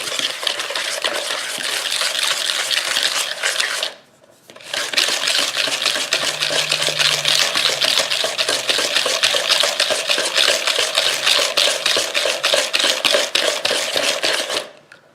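Raspberry roll batter being stirred in a bowl: a steady, close scraping and swishing that runs continuously, breaks off briefly around the four-second mark, then resumes to the end with no talking.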